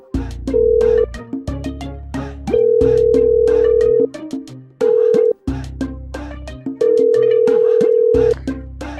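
An unanswered mobile phone call plays a repeating ringback tone in long steady beeps, loud and close, layered over busy background music throughout.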